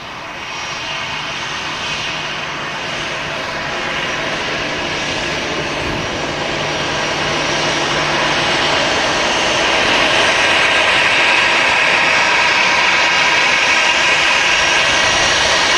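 An airliner landing at Manchester Airport and turning off onto a rapid exit taxiway roars loudly and continuously, its engine noise swelling gradually as it rolls nearby.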